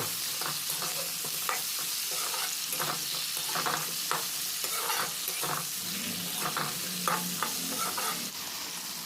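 Chunks of ridge gourd fry lightly with onions in a pan over medium heat under a constant loud sizzle and hiss, with frequent spatula scrapes and stirs cutting through, close up and without talk.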